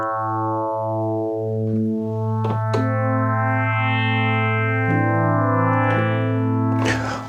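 Bright FM synthesizer notes with a linear envelope ring out with buzzy, metallic tones, sustained chords shifting in steps and fading evenly, with a few clicks between them.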